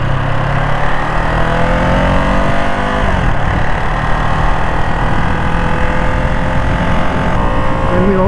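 A Ducati Monster 937 motorcycle engine revs as the throttle opens during a ride, a steady loud drone with rising harmonic sweeps over continuous wind and road rush.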